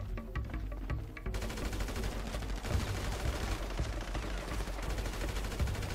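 Dense gunfire in Grand Theft Auto V Online, rapid overlapping shots and bursts forming a steady, busy barrage that runs through the whole stretch at moderate loudness.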